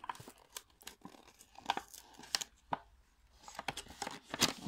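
A package being opened by hand, with close, irregular bursts of tearing and crinkling of paper or plastic packaging, separated by brief quiet gaps.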